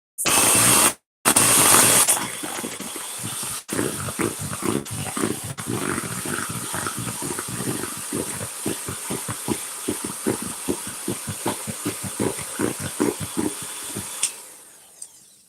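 An electric mixer whips birthday cake whipped soap in a bowl, giving a close, steady motor whir with rhythmic beater knocks and scrapes that run for about twelve seconds before cutting off; nobody talks.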